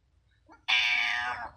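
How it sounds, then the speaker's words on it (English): A house cat lets out a single clear, close meow that swells suddenly and holds for nearly a second, with near silence just before it. "Yeah, he's a good kitty."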